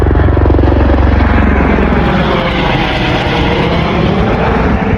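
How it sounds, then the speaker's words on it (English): A tour helicopter's rotor thumps steadily overhead near Tucson, loud and continuous, its low chopping drone filling the air without pause. "That's one of the tour helicopters up here."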